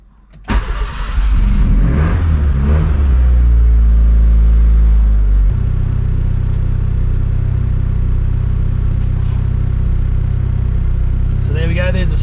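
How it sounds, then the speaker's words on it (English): A turbocharged Honda Civic EK with a D16Y engine running on E85 cranks and fires up, then settles into a loud, steady rumbling idle close by. "now I'm going to start the car up, if it'll start"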